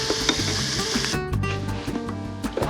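Beef for barbacoa sizzles and fries in an Instant Pot while a utensil stirs and scrapes through it. The sizzle is close and continuous, with clacks from the stirring.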